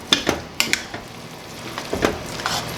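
A spoon stirs a cheesy chicken bake with light mayonnaise in a pot, making a few sharp scrapes and clinks at an uneven pace that stand out against a quiet kitchen background.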